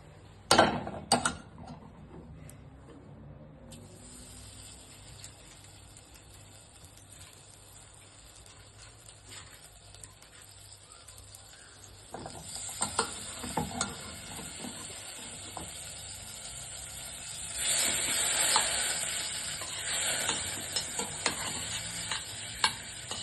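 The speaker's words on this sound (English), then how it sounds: "So I'm going to add 2 tablespoons of butter" Butter melting in a pan for a sauce: a bright, steady sizzle and hiss swelling in loudness partway through, joined by scattered clinks and stirring noises close by, with no voices.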